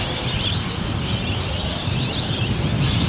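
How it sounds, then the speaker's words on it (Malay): Many birds chirp overhead on a street in St Albans, Melbourne, heard from a moving scooter; the calls are faint and blend into a steady wash of traffic and street noise, with no talking. "Orang boleh dengar kah bunyi-bunyi burung? Banyak burung di atas."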